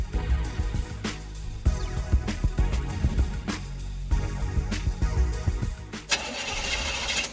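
In an advertisement, a car engine cranks over and over without catching, each starter whir stuttering and dying away in a repeated pattern that suggests a breakdown.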